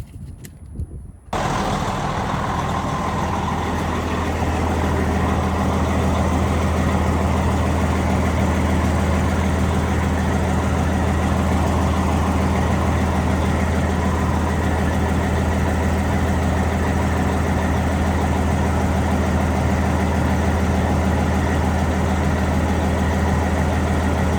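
An older truck's engine starts and idles steadily with a deep low rumble and a persistent ticking, puffing noise from an exhaust leak running throughout.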